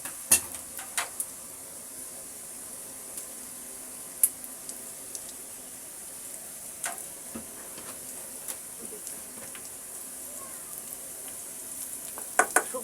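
Onion already fried in oil sizzles softly while dried red chili goes in, for lentil dal with bottle gourd: a quiet steady hiss with scattered sharp pops and occasional utensil clicks.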